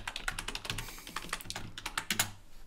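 Rapid typing on a computer keyboard, close and crisp, with irregular bursts of key clicks and a few louder presses, no talking.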